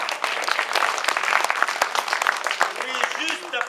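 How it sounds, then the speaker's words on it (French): An audience at a village evening show in Plouagat, Brittany, claps in a dense burst of applause with sharp individual claps, filling the room throughout. "Vous pouvez l'applaudir."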